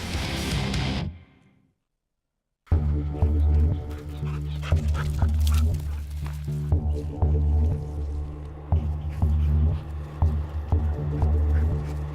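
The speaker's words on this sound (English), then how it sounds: "it was time to call in the dog" A hunting dog barks repeatedly at a bayed gemsbok in the brush, sharp yips and barks over a sustained low hum after a brief silence, close and loud.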